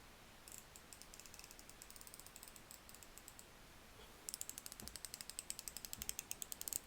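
A Snap-on 1/4 inch 72-tooth ratchet clicks in quick, even runs, first a lighter series of fine ticks, then after a pause a sharper, more pronounced burst of clicking, close and quiet with no talk.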